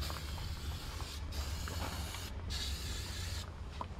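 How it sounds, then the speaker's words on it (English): An aerosol can of Lysol disinfectant hisses in three bursts over a campsite water spigot, quiet and close against a low outdoor rumble, each spray about a second long. "so spray it down with Lysol"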